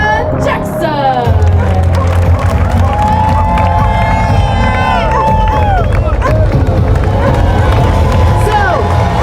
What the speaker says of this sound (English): Huge round of applause for Heather Jackson!